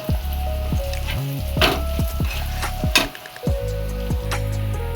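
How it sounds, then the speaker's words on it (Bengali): Chili, turmeric and cumin powder fry in oil with onion and garlic, a steady close sizzle broken by repeated metallic clinks and scrapes of a spoon stirring the pan. "লঙ্কা হলুদ জিরে ভাজা হয়ে গেছে"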